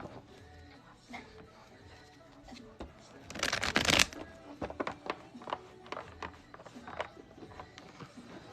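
A deck of playing cards shuffled in a quick riffle burst, followed by lighter taps and rustles of handling, heard indoors under quiet talk.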